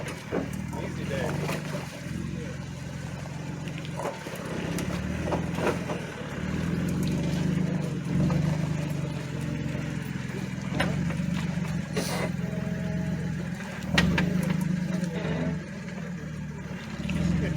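A Jeep JK rock crawls off-road, its engine holding a steady low idle-like rumble throughout with slight surges, close and continuous, while people talk intermittently over it.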